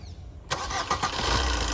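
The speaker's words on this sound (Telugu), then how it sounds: "సింగిల్ సెల్ఫ్లో కార్ స్టార్ట్ అవుతుంది" A 2015 Maruti Suzuki Baleno Delta starts on the first crank: a short starter whir, then the engine catches and settles into a close, even idle.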